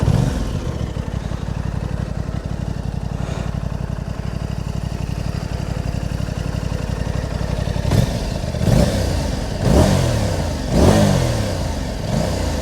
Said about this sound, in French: j'ai oublié de vous faire écouter le doux son de cette moto